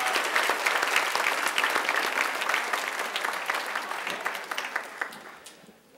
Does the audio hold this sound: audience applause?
yes